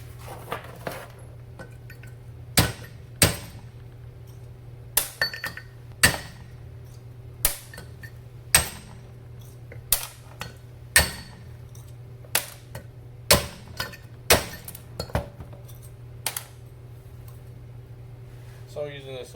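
Valve springs are popped off a 30-year-old Honda D-series cylinder head with a magnetic spring tool, giving irregular sharp metallic clicks and clacks, close and fairly faint, over a low steady hum.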